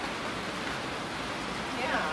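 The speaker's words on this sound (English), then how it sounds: "we're stuck in a trailer in the rain" Rain falling on a trailer, a steady hiss of drops on the roof heard from inside, fairly soft and even throughout.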